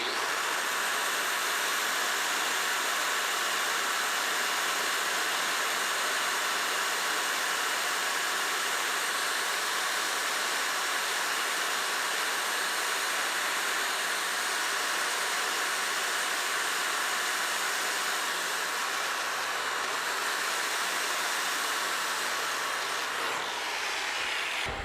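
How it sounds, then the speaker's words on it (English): An angle grinder fitted with a grinding disc works over a 7018 weld bead, producing a loud, steady, hissing whine that runs unbroken for the whole stretch with no talking. "Try to get good control on that grinder so when you're grinding, you're able to give it that same round shape on your weld."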